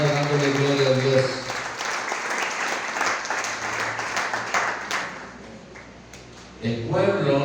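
A church congregation claps vigorously during a worship gathering, a dense roomful of applause that swells and then fades, with a preacher talking over it at the start and again as it dies down.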